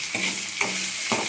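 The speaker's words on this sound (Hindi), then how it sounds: "पहले सोयाबीन को मैं भाजी कर लेता हूँ।" Soybeans frying in a kadai while being stirred, a steady sizzle broken by three scraping stirs at even intervals, close and alone.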